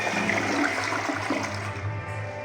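A household toilet flushes with strong suction, a loud, continuous rushing of water that tapers slightly near the end, with no talking over it.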